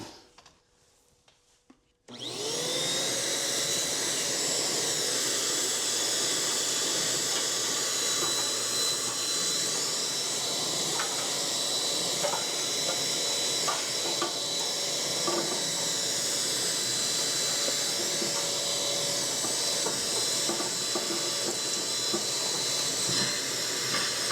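A dedicated TROURAY ash vacuum starts with a sharp click and ramps up to a loud, steady, high-pitched whine and airy rush as it sucks ash from a wood stove and ash pan, with small rattles of debris running through the hose.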